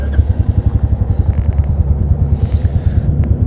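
A Royal Enfield Classic 350 motorcycle engine cranks and chugs close by, a loud, rapid, regular thumping pulse that carries on for several seconds, with no talking over it.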